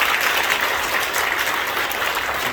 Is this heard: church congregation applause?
yes